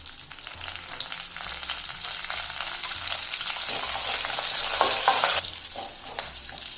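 Curry leaves crackle and sizzle in hot oil while tempering katte pongal with black pepper, a steady dense frying hiss with stirring scrapes, swelling louder toward the end and heard close with no talk.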